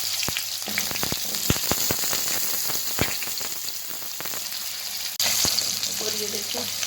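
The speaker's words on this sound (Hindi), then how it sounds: "और ये देखो हमारे आलू और गाजरें अच्छी तरह से हो गई है फ्राई" Potatoes and carrots fry in hot oil, giving a dense, steady sizzle with scattered sharp pops and crackles that swells slightly louder toward the end.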